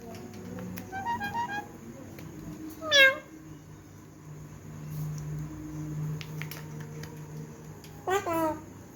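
A small child imitates a cat's meow, giving a few short, high, wavering meow sounds spread across the stretch, close by, with soft voices and room noise in between.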